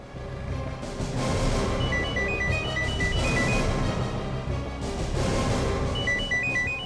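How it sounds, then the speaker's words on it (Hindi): An electronic ringtone chirps in short repeating melodic bursts over a steady background hum, continuing throughout. "सर फोन की घंटी तो बज रही है मगर फोन कहीं दिख नहीं रहा है"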